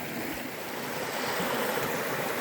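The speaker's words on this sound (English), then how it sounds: "right here at this rushing water" Rushing water of the Opalescent River at a hiking crossing near Allen Mountain, a loud, steady broadband roar filling the whole clip without pause.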